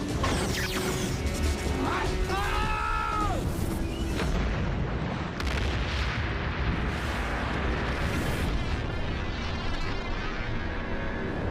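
A vehicle-mounted weapon firing in an action scene, heavy booming blasts and crashing debris with a mechanical whine near the start, loud and dense throughout.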